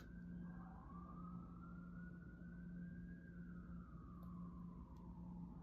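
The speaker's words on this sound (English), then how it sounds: "if those sirens are standing out to you" An emergency vehicle siren wails in a slow rising and falling sweep, steady and moderately distant, over a low constant hum of traffic.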